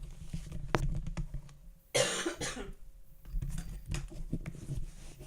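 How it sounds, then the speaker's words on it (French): A single sharp cough bursts out close to the mic, a sudden loud hack amid quiet shuffling and soft clicks. "je sais pas si vous aurez entendu, mais j'ai toussé"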